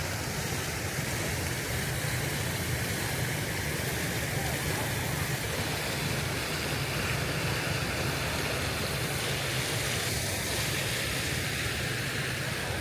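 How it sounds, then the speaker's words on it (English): Ornamental fountain water feature in a Vietnamese city splashing steadily, a dense, continuous close hiss of falling water that never changes in level. "Look at this beautiful water feature."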